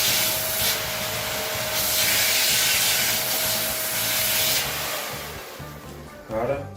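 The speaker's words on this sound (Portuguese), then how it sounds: "Realmente ela não faz muito barulho para um aspirador dessa potência." A Wap Silent Speed Max upright vacuum cleaner runs close by with a loud, even airy whoosh and a faint high whine. The motor sound eases off toward the end, and a brief scraping rustle follows.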